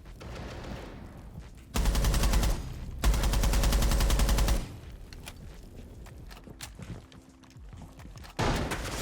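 Capitao's weapon firing in Rainbow Six Siege: two loud, rapid automatic bursts close together, then quieter mechanical clicks and footsteps, and a final burst starting near the end.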